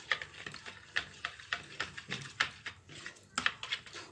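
A spoon stirs yeast and a spoonful of vinegar in a bowl, tapping and scraping in a quick, uneven rhythm of close, bright clicks that run steadily for about four seconds with no talking.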